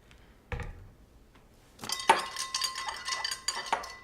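A sweet and sour cocktail is stirred with a spoon, bright clinks and rattles against the glass following a single thunk, fairly close and without talk.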